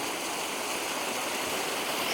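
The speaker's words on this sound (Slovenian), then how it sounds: "Šumi vodica." A small stream murmurs in a steady, even rush of running water, continuous and moderately close, with no other sounds standing out.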